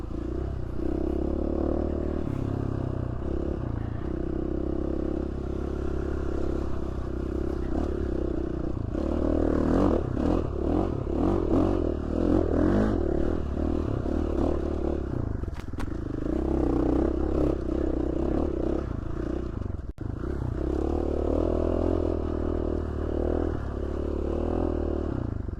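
A KTM motorcycle engine drones steadily while riding over rough woodland trail in Idaho, with scraping and clattering and the engine surging louder in the middle.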